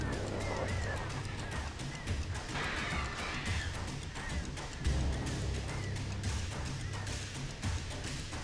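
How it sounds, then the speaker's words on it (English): Birds honking like geese inside the video game Alan Wake on PS5, repeated squawks and honks over a busy, dense game soundscape with occasional knocks. "Birds."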